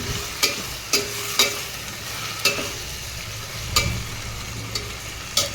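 Tomatoes and three green chillies frying in a pan for a fish curry, with a steady low sizzle broken by sharp, evenly spaced scrapes of a spoon stirring.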